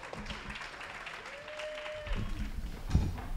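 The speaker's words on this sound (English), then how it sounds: "Big round of applause out there for Danny." Applause at a wedding reception for a guest just congratulated, a broad wash of clapping running under the room with a raised, busier stretch toward the end.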